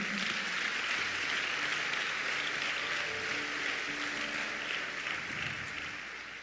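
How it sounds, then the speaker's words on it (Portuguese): A church congregation applauds to the Lord in a dense, continuous wash of clapping that stays fairly loud before easing slightly at the end. "Aplauda ao Senhor."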